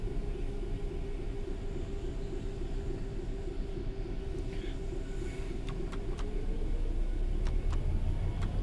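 A GBRf Class 66 diesel freight locomotive rumbles steadily in a train simulator on the Medway Valley line. The engine drone is loud, with a few sharp clicks near the end.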